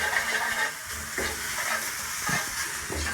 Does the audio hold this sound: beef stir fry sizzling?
yes